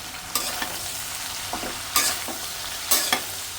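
Bottle gourd with ground spices and salt is stirred in a hot pan, a low steady sizzle with three or four sharp scraping stirs spaced about a second apart, close and with no voices.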